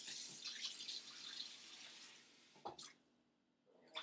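Hot water run for dissolving coffee crystals, a steady close hiss of flowing water that stops, followed by a few small clinks and clatters.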